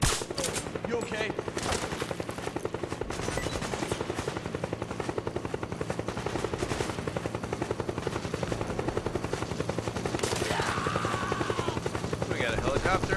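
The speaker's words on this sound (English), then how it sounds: "We got a helicopter out here?" A Metal Gear Solid 4 battle scene: a helicopter's rotors chop in a steady pulse while bursts of automatic gunfire crackle repeatedly over it, loud and continuous, with some faint voices mixed into the din.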